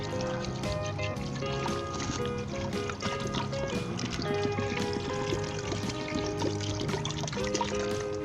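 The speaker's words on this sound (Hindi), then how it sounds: "अब यहाँ पे आप इसमें 2 गिलास पानी डाल दें" Water pours from a glass into a pot of mutton and arvi gravy, a continuous splashing, gurgling stream with small clinks, close and moderately loud for the whole stretch, with no talking over it.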